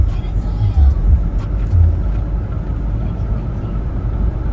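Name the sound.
2.4L 4-cylinder car engine running at low RPM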